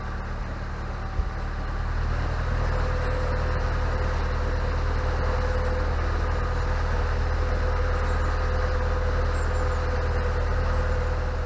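A narrowboat engine runs at high revs, a steady droning hum with a constant whine above it, continuous and fairly near throughout.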